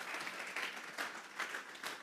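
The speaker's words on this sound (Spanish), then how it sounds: "Vamos a regalarle ofrenda de palmas al Dios de la gloria." Church congregation clapping together during a Spanish-language sermon on fasting and prayer, a dense continuous patter of many hands with rhythmic swells, moderately distant.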